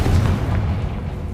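Confringo spell explosion in Hogwarts Legacy, a single heavy low boom that decays over about a second, loud and close.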